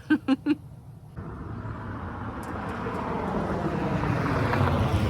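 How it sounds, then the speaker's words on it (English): A car passes by outdoors, its engine and tyre noise rising steadily from faint to fairly loud over a few seconds, following a brief burst of three short sounds at the start. "car number 2. Here it comes."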